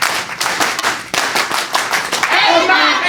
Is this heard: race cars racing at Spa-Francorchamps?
no